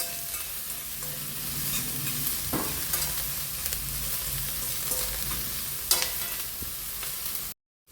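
Green chillies and curry leaves frying in a pan for a chicken liver and gizzard dish, a steady close sizzle with occasional stirring scrapes and clinks, no voices.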